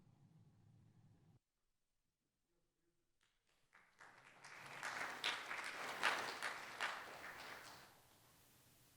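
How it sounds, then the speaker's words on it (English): Applause from a remote conference audience after a technical talk swells up after a brief silence, building to a dense patter of many clapping hands at moderate distance before tapering off. "I don't know if you could hear the applause, but we gave you a hand"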